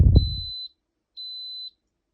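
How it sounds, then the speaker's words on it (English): Two identical high-pitched electronic beeps from an Instant Pot pressure cooker, each about half a second long, evenly spaced after a short thud. "Now we wait for the 3 beeps."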